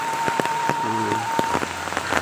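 Steady broadband hiss of rain falling on surfaces in a village, with scattered sharper drip-like taps and a faint tonal hum in the background.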